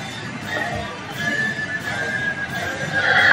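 Horses neigh and whinny amid a busy battlefield in Medieval 2 Total War, a sustained high whinny rising toward the end over a steady din of clashing troops, no talk.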